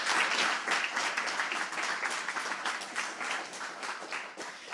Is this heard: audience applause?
yes